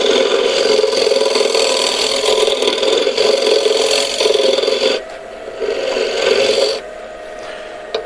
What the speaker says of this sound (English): Now you can use a scraper.